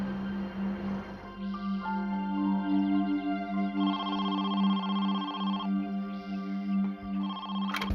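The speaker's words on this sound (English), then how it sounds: "5 days after Regina's disappearance, Carolyn received a phone call" A telephone rings with a melodic electronic ringtone, repeated tonal bursts over a steady low hum, fairly faint and continuous with no voices.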